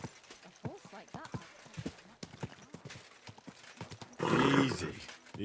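Horse hooves clip-clop in a steady rhythm in Kingdom Come: Deliverance II, with talk over much of it, then a loud, close neigh bursts out near the end.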